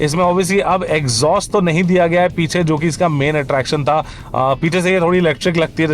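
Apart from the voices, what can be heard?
None of the usual background noises is heard.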